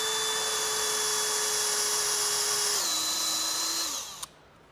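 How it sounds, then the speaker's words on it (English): A power drill bores through squishy seam sealer and foam on a Toyota Tundra roof, a steady high whine running alone and loud for about four seconds, dropping pitch once, then stopping abruptly with a small click. "we're only drilling through this weather stripping or seam sealer or foam"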